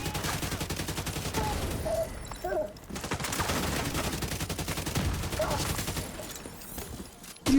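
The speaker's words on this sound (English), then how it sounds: "Are you shooting grenades at me?" Grenades firing and exploding in a video game during a December 2023 afternoon stream, a steady barrage of loud repeated blasts and gunfire filling the whole stretch with brief dips.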